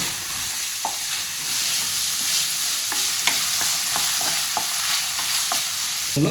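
Chopped ginger and onion fry in a pan for paneer curry, a steady loud sizzle running throughout with repeated sharp scrapes and clinks of a spatula stirring, no voices.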